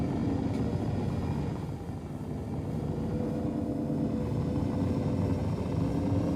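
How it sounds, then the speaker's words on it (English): Mark II Hornet spacecraft afterburner in a video game, a steady loud low roar and rumble that holds for several seconds with a slight dip midway, with no speech. "Afterburner for days."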